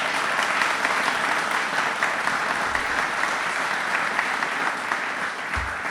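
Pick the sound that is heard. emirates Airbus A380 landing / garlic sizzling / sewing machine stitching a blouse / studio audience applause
studio audience applause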